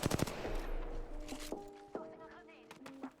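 In Apex Legends, a player lays down suppressing fire on an enemy: a rapid burst of loud automatic shots, then sparser single shots and ringing game effects, with someone talking over the action.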